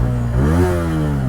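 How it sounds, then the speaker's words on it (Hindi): A Bajaj Pulsar N160 SS motorcycle engine starts and settles into a loud, close, steady idle with a smooth low drone and a slight rise in pitch midway. "बाइक अच्छा स्टार्ट हो रही है,"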